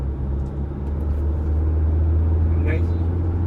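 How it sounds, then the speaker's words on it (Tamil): An MG Hector car drives along with a low, steady engine and road rumble heard from inside the cabin, while a person talks over it. "நான் எம்ஜி ஓட்டுறேன்"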